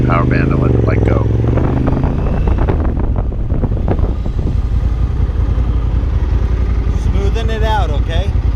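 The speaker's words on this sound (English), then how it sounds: "I had to release more in the clutch before I got into the power band and let the bike go" A motorcycle's engine revs as the clutch is released on a riding course. The engine note is loud and rough and rises with the revs, mixed with heavy wind buffeting on the microphone. A voice speaks briefly.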